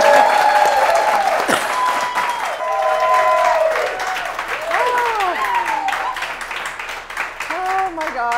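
Studio audience applause on a talk show, a steady wash of clapping that fills the whole stretch, with speech-like tones and music-like bands layered on top.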